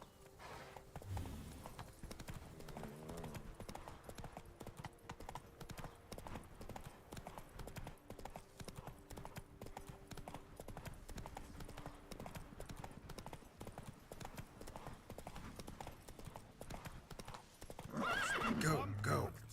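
Roach the horse galloping in The Witcher 3, a continuous rapid clip-clop of hooves with a whinny, faint and steady throughout, rising louder near the end over soft game sounds.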